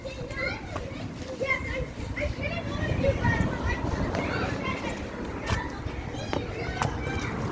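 Kids play and scream nearby in a continuous lively din of shrieks, shouts and chatter, with occasional sharp cries standing out; adult voices talk amid the noise.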